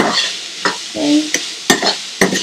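Onions tossed and stirred in a frying pan with a little salt, giving a soft sizzle broken by several sharp scraping stirs and clatters, with no talking.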